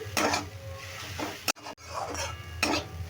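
Chana dal frying in oil while being stirred in a pan for a papaya curry, with scraping clinks of a spoon against the pan over a steady sizzle and a brief gap near the middle.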